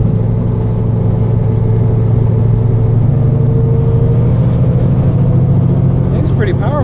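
A high-mileage semi truck engine runs steadily while driving, giving a loud continuous low rumble with mid-range drone throughout; people talk over it inside the cab.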